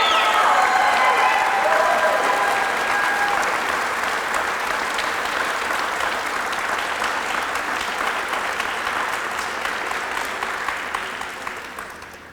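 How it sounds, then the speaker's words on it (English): Audience applause for the practical nursing class of 2025 at a pinning ceremony, a dense, steady wash of clapping from a large crowd with a few cheers, tapering off toward the end. "Let's give one last round of applause and congratulate the PN class of 2025."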